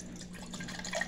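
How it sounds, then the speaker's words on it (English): Water spills and drips from a mason jar as it is poured, a brief, faint patter of small splashes close by. "Ooh, I'm spilling it."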